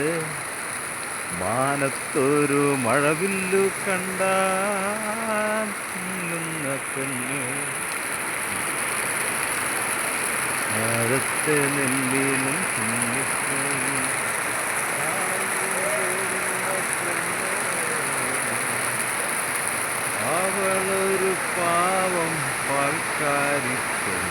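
Heavy rain falls steadily in Ernakulam, a constant broadband wash that runs through the whole stretch while people talk and sing loudly over it.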